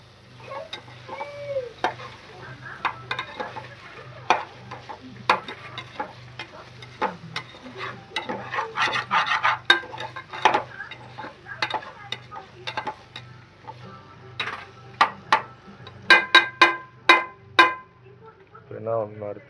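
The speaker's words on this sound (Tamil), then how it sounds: "இன்னும் பச்சை வாடை போகிற அளவுக்கு நல்லா வதக்கணும் மக்களே." Ginger garlic paste sautéing in a pan, a steady sizzle with repeated sharp scraping and clinking strokes from stirring, under a low continuous hum; a person talks through much of it.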